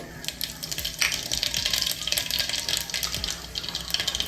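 Mustard seeds and cumin crackle and sizzle in hot oil for a matar pulao, with a dense spray of sharp pops over a watery hiss, close and fairly loud.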